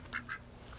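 A couple of quick, nasal duck quacks sound close by in a quiet backyard setting, two short calls within a second, fairly soft.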